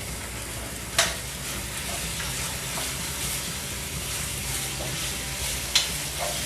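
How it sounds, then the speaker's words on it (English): Steady close sizzling of Impossible plant-based meat frying in a hot pan, with a couple of sharp clinks from a utensil. "I hope you can hear that sizzle at home."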